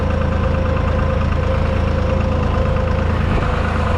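Deutz tractor diesel engine running steadily, a loud close continuous chugging throb with an even rhythm and no talk over it.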